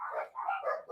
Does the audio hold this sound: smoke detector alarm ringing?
no